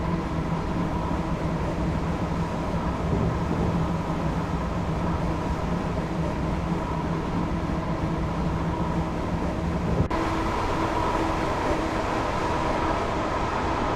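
An Acela Express train running in a train simulator game, a loud, steady interior rumble and drone of the moving train throughout, with a slight change in tone near the end and no talk.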